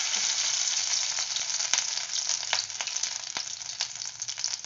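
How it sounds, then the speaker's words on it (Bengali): Fish roe mixed with raw onion and green chilli, dropped spoon by spoon into hot oil, fries with a loud, steady sizzle and close crackling pops throughout. "তেল গরম হয়ে গেছে আর আমার এখানে মাছের ডিমটা পেঁয়াজ আর কাঁচা লঙ্কা দিয়ে মাখাও হয়ে গেছে। এবার আমি এখানে অল্প অল্প করে"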